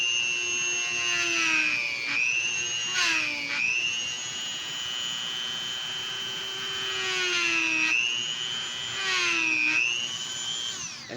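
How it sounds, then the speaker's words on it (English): A small drill bit bores nostrils into a carved butternut wood horse head, giving a steady, close, high-pitched motor whine that dips briefly in pitch several times as the bit bites into the wood. "we're going to drill in the nostrils with this one"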